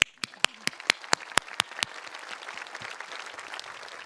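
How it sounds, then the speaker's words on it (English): Audience at a high school commencement applauding teachers, opening with several loud distinct hand claps in a steady rhythm before a broader wash of scattered clapping from the crowd. "So let's give a round of applause to our teachers."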